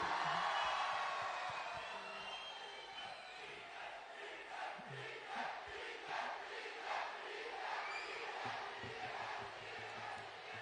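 Crowd of fans at an event in Kunigal chanting and shouting as DK Suresh arrives, a rhythmic, repeated mass chant at some distance with a steady roar underneath.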